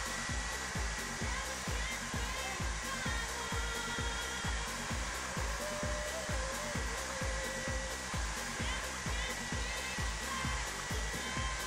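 A hair dryer blows continuously on hair during straightening, a steady whooshing hum with a regular pulsing rhythm from brushing strokes, close and alone without speech.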